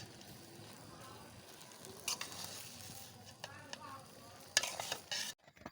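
Leafy greens are stirred in a hot pan with salt and chilli over a low, quiet sizzle. Two louder bursts of scraping and tossing rise from the background before the sound cuts off abruptly.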